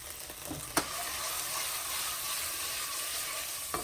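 Sambal chili paste sizzling with browned ginger in a hot pan, a steady close hiss of frying with a couple of sharp clicks or taps near the start and end, no voices.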